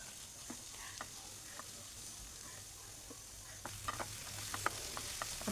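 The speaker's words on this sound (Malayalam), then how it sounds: "അതും കൂടെ ഒന്ന് നന്നായിട്ടൊന്ന് വഴറ്റി യോജിപ്പിക്കുക." Tomato and onions sauté for a green peas curry, giving a soft, quiet sizzle with scattered light clicks and scrapes of a spoon stirring the pan, which grow a little busier toward the end.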